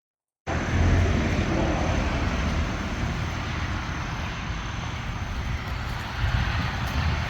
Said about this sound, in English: we'll do a rinse with the hose